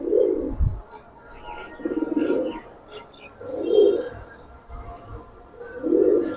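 Giribaz pigeons in a loft give low, soft cooing calls, four rounded coos spaced about every one and a half seconds, close by with faint background murmur.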